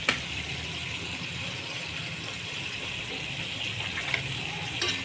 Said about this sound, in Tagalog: Lagyan po natin ng soy sauce.